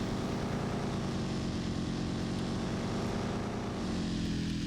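A video game car engine drones steadily with a buzzing, propeller-plane-like tone, a dense constant roar with no gaps or pitch changes.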